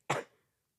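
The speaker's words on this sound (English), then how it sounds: "Not the crunchy cough." A single short, raspy cough bursts out close by, loud and broadband, then trails off quickly into silence.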